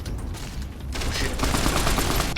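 Rapid gunfire in a shooter video game forms a dense, continuous crackling barrage that grows louder and fuller partway through, with no voices.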